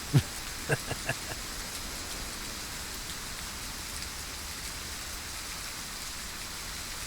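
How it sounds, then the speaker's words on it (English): Steady rain pours during a thunderstorm in the hunting video game Way of the Hunter, a dense, even hiss throughout, with a few sharp taps near the start and no clear thunder. "it's not very often it rains in this game"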